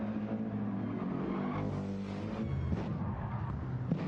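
A Mercedes-AMG race car passes during the Nürburgring 24-hour race, its engine a steady loud roar that swells and fades with distant track noise, no voices.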